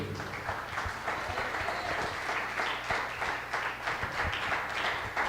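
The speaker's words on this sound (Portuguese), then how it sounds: "Aplauda ao Senhor." Sustained applause from a church congregation, dense clapping that keeps an even, lively level from start to finish with a low hum underneath.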